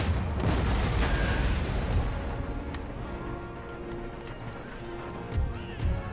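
Hussar cavalry galloping in the strategy game Empire: Total War, a rumbling mass of hooves in the distance with scattered booms of gunfire, swelling at the start and fading as it moves away.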